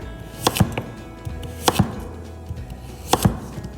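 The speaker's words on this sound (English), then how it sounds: "I'm just gonna cut it into like fry-size strips" A kitchen knife slices a turnip into short fry-size strips on a cutting board: three pairs of crisp, close chops about a second apart, with faint taps in between and no talking.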